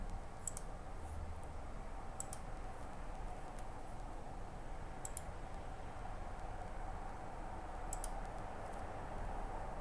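Four sharp, isolated mouse clicks on a computer's draw button, spaced irregularly over a steady background hiss, with no voices.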